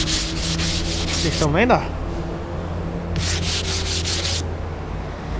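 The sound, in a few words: dry sanding car primer with used sandpaper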